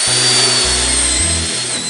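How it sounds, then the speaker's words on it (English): A power drill whirs continuously at close range, its motor pitch stepping down and shifting as it runs, with a high whine on top. "Drilling"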